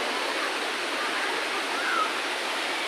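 Bolinao Falls waterfall in Pangasinan, a continuous broadband rush of falling water, steady and enveloping, with no breaks or talking.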